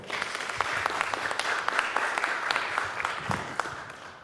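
A conference room of people claps steadily for a few seconds, a warm, even round of applause with scattered sharper claps.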